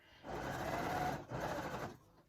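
A sewing machine stitching around the seam of a surgical scrub cap, running in two steady close bursts with a brief pause between them.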